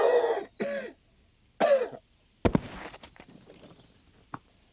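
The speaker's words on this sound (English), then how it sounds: "I just coughed and fell over then" One person lets out a sudden harsh cough, then a short burst of scuffling thuds as they fall over, after a few earlier vocal sounds and with quieter rustling at the end.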